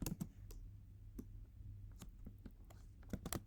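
Sparse, faint keystrokes on a computer keyboard while Python code is typed, with a few isolated clicks and a quick cluster at the end over quiet room noise.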